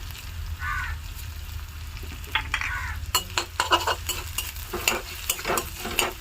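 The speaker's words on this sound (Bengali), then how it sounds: "এটাকে এবার ভালো করে একটু যাতে কাঁচা গন্ধ না থাকে সেইভাবে ভেজে নেবো" Ginger-garlic paste with onion frying in a pan, a steady close sizzle under repeated scraping and clinks of a spoon stirring against the metal, with short bursts of louder activity toward the end.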